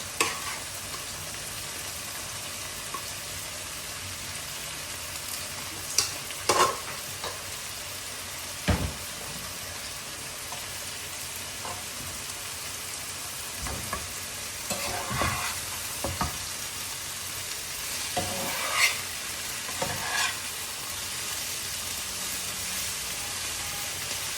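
Boiled vegetables fry in a pan with a steady, soft sizzle, broken now and then by scraping stirs, fairly quiet and close with no talking.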